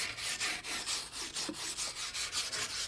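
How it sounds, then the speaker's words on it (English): A wire brush scrubs dirt and grit off the outside of a garden pot, with steady rhythmic scraping strokes, close and fairly loud, repeating about every quarter second. "So take the wire brush, rub it along it. It takes off all the excess dirt and grit."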